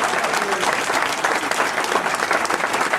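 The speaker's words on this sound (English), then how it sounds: "Give another nice round of applause for everybody who joined us." Steady, full audience applause at a 1PW wrestling fan conference Q&A in 2005, dense and continuous throughout.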